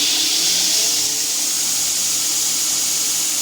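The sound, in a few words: grinder squaring off the cut metal end of a knife blank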